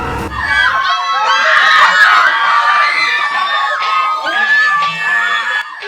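An audience at the premiere night of the KMJS Gabi ng Lagim movie on a black carpet screams and squeals in high-pitched excitement, a loud, sustained crowd roar with scattered yells.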